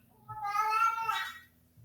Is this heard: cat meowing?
yes